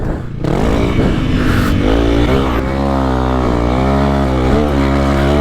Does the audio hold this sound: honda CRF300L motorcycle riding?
yes